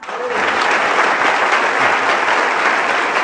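Loud, dense applause from a group, steady clapping throughout without pause.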